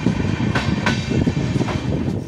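Kanchankanya Express train pulling out of Aluabari Road Junction, its carriages rolling with a steady loud rumble and a few sharp metallic clicks from the wheels over rail joints.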